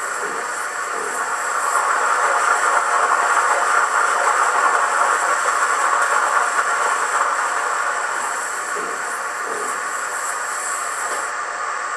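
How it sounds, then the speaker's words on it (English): A steady, loud hiss of water or steam as a model steam locomotive fills with water, with faint low thumps here and there and no voices. "This is filling up with water."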